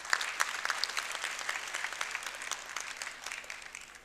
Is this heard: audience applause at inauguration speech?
yes